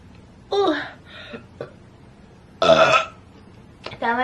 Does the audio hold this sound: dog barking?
no